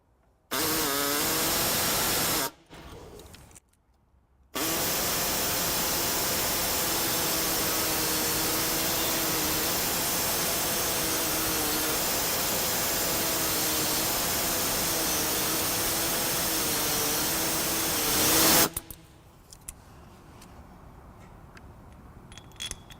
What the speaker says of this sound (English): Today I'm going to be using an air saw.